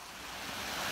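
Steady broadband rush of water tumbling down a garden pond waterfall, continuous and fairly close, with no voices over it.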